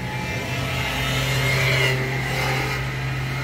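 A motorcycle or scooter drives past beside an urban garden, a steady mid-pitched engine drone with a slight swell in the middle, heard alone without talk.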